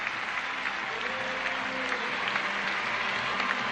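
A crowd claps steadily and loudly throughout at the 2006 Commonwealth Games gymnastics apparatus finals, a dense wash of applause that never lets up.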